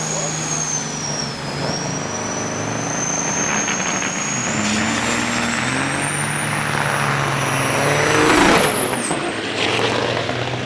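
Big rig trucks race at Onaway Speedway with heavy, droning engines that shift pitch as they pass, building to a louder surge near the end, while an announcer talks over the noise.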